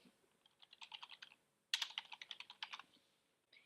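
Someone types a building name on a computer keyboard in two quick bursts of light, crisp keystrokes, the second burst louder and faster, with a pause before a final tap and no talking.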